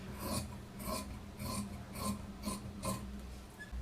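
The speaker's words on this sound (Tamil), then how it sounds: "இந்த மாதிரி எடுத்துட்டு நம்ம இப்போ இந்த பீஸை வந்து கட் பண்ணிடலாம்." Tailoring scissors cutting through a fabric sleeve piece, a steady series of about seven crisp rasping snips at an even rhythm, quiet and close with no voices.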